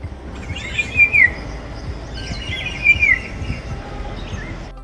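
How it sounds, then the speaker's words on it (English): A wild bird sings from the treetops, two rising whistled phrases about two seconds apart, clear and moderately near over a steady hiss of outdoor ambience. "Though its song is beautiful, it carries a touch of mystery, often echoing from the treetops without revealing the bird itself."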